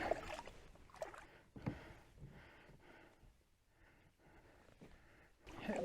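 Quiet kayak paddle strokes dip and splash through water in a slow irregular rhythm, soft and close, with some breathing between strokes, in Voyageurs National Park.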